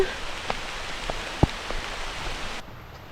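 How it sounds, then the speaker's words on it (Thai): Rain falls steadily during a forest hike, a soft continuous patter with a few sharper drops striking nearby. "ฝนตก"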